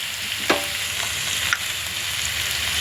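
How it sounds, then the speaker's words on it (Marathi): Green masala paste frying in hot oil for a brinjal fry, giving a steady close sizzle with a few sharp spatula stirs and scrapes, no voices. "टाकणार आहोत हिरवं वाटण सगळं भाजून घ्यायचं आहे तेलात"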